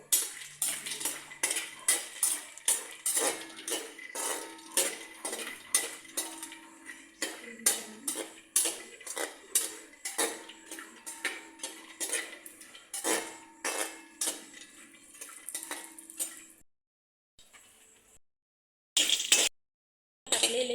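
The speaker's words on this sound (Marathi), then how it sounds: "थोडेसे काजू तुपामध्ये परतून घेऊ" Cashews are sautéed in ghee in a pan, with quick repeated spoon clinks and scrapes against the metal that stop briefly near the end. No one speaks.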